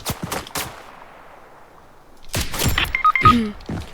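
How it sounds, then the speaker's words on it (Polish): A few sharp gunshots sound in a Roblox Blackhawk Rescue Mission 5 match, with short cracks at the start and a cluster of louder shots and impacts near the end, separated by a quiet stretch. "No kto do mnie tak strzela?"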